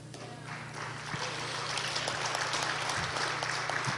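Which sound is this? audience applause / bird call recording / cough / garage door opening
audience applause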